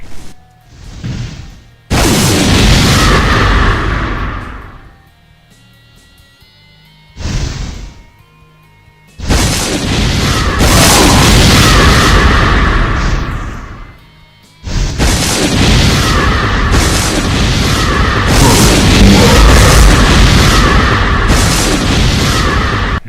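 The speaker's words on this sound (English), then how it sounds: "It can shoot 2 large, high-homing, wall-bouncing shots that can go around corners that are hard to avoid." A Mancubus variant in a Doom mod firing large homing, wall-bouncing shots, loud booming blasts in three long bursts separated by brief quieter gaps.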